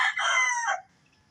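A rooster crows once, loud and near, its drawn-out cry cutting off into near silence.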